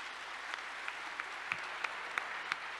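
Audience at a MEDEF summer university event applauding guest Rama Yade, a quiet, steady wash of clapping with a few sharper individual claps standing out, heard from a distance.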